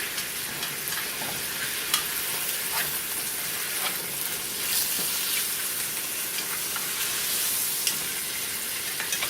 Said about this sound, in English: You're going to want to sear it on each side about 2 to 4 minutes.